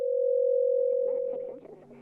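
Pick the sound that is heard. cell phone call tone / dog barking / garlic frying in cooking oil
cell phone call tone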